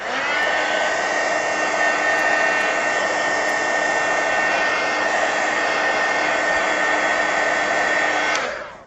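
A hair dryer blows a steady, loud, close whir over an artist trading card for several seconds, then cuts off abruptly.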